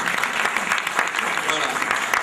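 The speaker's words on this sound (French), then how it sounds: "Je vous ai invité à applaudir." Conference audience at a talk in Tunis bursting into sustained applause, dense steady clapping from many hands filling the room without pause.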